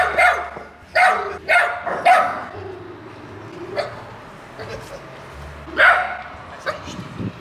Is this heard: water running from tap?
no